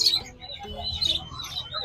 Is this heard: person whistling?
no